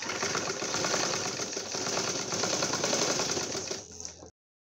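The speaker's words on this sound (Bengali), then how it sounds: "এভাবে আমি এই সাইডটা এভাবে সেলাই করে নিব।" A sewing machine stitches the side seam of a baby frock, a steady close mechanical whirring rattle running evenly for about four seconds before cutting off sharply.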